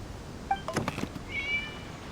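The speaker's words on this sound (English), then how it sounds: "It was just a cat." A single cat meow in a story game scene, fairly faint and brief, rising over a quiet background with a few soft knocks before it.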